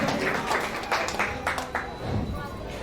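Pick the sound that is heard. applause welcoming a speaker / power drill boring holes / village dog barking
applause welcoming a speaker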